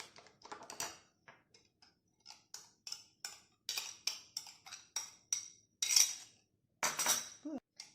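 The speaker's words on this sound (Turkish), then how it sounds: "Şimdi yoğurdu ilave ediyoruz ve yoğurtla birlikte karıştırıyoruz." A utensil stirs tahini sauce with yogurt in a bowl, making quick, light clinks and scrapes in an irregular rhythm. The sound is close and fairly quiet, with no speech over it.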